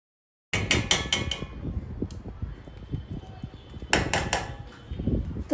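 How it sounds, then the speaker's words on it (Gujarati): Paneer is grated by hand for a paratha filling, heard as close, rhythmic scraping strokes in a steady run after a moment of silence. "હવે આને ધીમે ધીમે છીણવાનું. ઓકે, તો હું છીણી લઉં છું"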